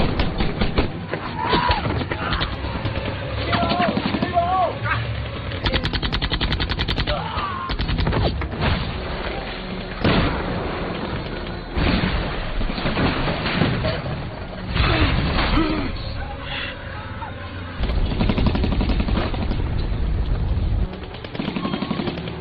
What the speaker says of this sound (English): Even Lieutenant Holly was critically injured by gunfire